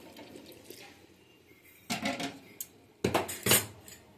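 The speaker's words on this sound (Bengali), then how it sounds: "এরপরে আমি একটু গরম জল দিয়ে দিচ্ছি, খুব বেশি দেবো না, তবে অল্প একটুই দেবো।" Hot water poured into a pot of vegetable khichdi on the stove, a short splashing pour followed by a second burst of pouring with metallic pot and utensil clatter, close by and without speech.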